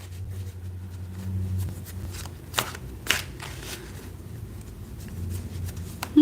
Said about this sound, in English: So this is the deck that I'm shuffling.